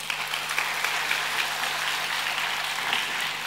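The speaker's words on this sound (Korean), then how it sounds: "우리 축복하는 마음으로 우리 다 같이 한번 박수 한번 하겠습니다." Young adult church congregation in Sydney clapping together in blessing for a new member, a soft even patter of many hands held at moderate level throughout, with a faint steady hum beneath.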